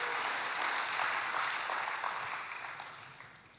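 Dense, continuous applause from a church congregation at an Indonesian worship service, a broad even roar of many hands that holds steady and then gradually fades toward the end, with no voices over it.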